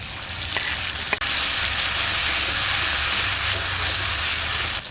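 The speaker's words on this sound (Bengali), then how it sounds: "এবার দেবো রসুন আদা শুকনো লঙ্কা কাঁচা লঙ্কা একসাথে দিচ্ছি" Garlic, ginger, dried and green chillies frying together in oil for a Sundarbans-style crab dish, producing a loud, close, steady sizzle with a sharp clatter as they go in and occasional stirring.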